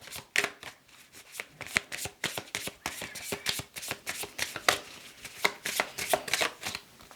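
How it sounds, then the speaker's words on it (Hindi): A deck of tarot cards is shuffled by hand, close up, with quick repeated riffling snaps and soft flutters in an uneven rhythm, no talking. "तो आपके लिए कार्ड्स को शफल करते हैं।"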